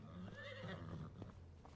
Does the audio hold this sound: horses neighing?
yes